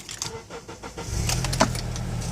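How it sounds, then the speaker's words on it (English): A 2005 Honda Element EX starting up, a short crank catching at once into a steady idle that rumbles close and fairly loud after a few key and fob clicks, with no talking. "Fires up first time, every time, like a Honda."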